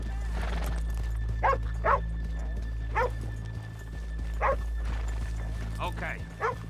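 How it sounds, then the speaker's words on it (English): Horses in the video game Red Dead Redemption 2, with repeated snorts and whinny-like bursts and soft hoof clops over a steady low hum, while a voice talks throughout. "let's leave the horses here off the main drag"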